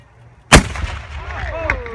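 A single loud cannon blast at a Battle of Brooklyn reenactment, sharp and close, followed by a long rumbling echo and crowd noise fading over two seconds.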